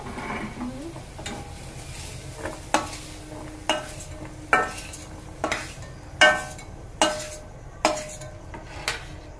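Cashews and raisins fry in a kadai with a soft sizzle underneath, while a utensil strikes the pan in a steady series of sharp, close metallic clanks.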